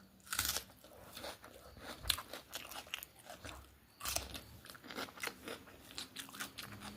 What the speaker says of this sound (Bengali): আর এক কামড় করে পেঁয়াজ